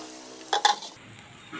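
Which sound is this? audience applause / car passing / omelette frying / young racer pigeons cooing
omelette frying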